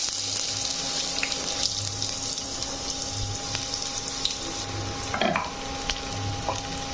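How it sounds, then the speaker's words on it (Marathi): Onion fries in hot oil in a kitchen pan, a steady close hiss with a faint repeating hum, occasional light clicks, and a brief clatter of a utensil near the end. "कांदा भाजून घेऊया"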